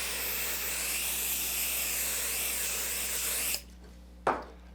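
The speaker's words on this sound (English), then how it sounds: "I'm just going to spray my glue on the back of the felt" Spray adhesive hisses steadily from an aerosol can onto the back of a piece of felt for about three and a half seconds, close and continuous, then cuts off, followed by a short second burst.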